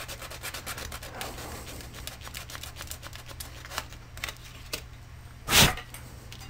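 Sandpaper is rubbed over ABS plastic to rough it before super glue goes on, making close, quiet repeated scratchy strokes, with one louder abrasive scrape near the end.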